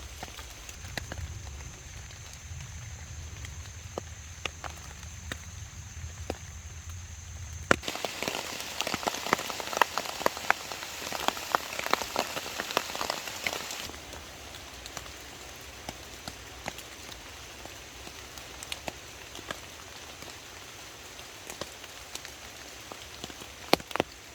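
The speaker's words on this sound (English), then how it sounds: "Now it's all just about enjoying the summer storm." Summer storm rain patters steadily on a tarp shelter overhead, with scattered sharp drips throughout and a heavier, louder downpour swelling in the middle before easing back to a softer drumming.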